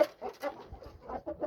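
A purebred rooster offered for sale at a poultry market clucks in a few short, close, throaty bursts with brief pauses between them.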